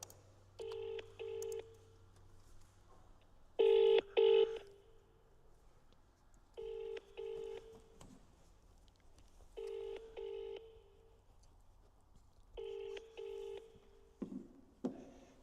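Bursts of telephone keypad tones sound during a phone call, short double beeps in clusters repeating every few seconds, fairly faint against a low hum with a little background noise.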